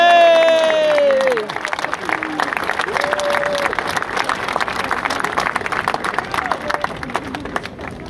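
A large outdoor crowd on a town-hall square in Martigues cheers an assistant coach at a celebration of the FCM football club's promotion: sustained, dense applause and clapping after someone speaks over a loudspeaker at the start.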